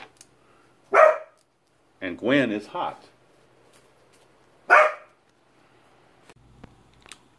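A dog barking somewhere near a man calling a 1987 Atlanta Braves versus San Diego baseball game, with several short loud barks in separate bursts between stretches of quiet and his commentary.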